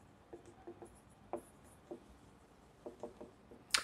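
Chalk or marker writing examples on a board during a physics lecture, faint short scratchy strokes in an irregular rhythm, with a sharper tap near the end.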